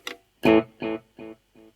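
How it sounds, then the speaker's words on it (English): A single plucked guitar note through a Visual Sound Dual Tap Delay pedal, followed by four quieter echoes, each repeat fading evenly at a steady rhythm. "like if you had a delay sound like this kind of thing"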